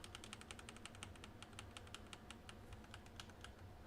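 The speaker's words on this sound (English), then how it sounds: "Using the arrow keys." Arrow keys on a computer keyboard tapped in a quick, steady run of light clicks, close and fairly faint, with no talking.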